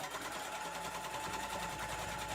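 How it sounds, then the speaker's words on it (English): Domestic sewing machine running a straight stitch at 2.5 mm length across fabric for a puffy Halloween tote bag, a steady fast mechanical whirr with rapid needle clatter, close and continuous without pauses. "then I'm going to sew across, and then I'm just going to leave an opening on the side"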